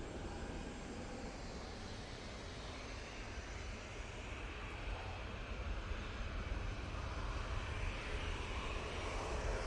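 An Emirates airliner at Manchester Airport gives a steady, broadband engine roar that holds at an even level throughout, with no talking.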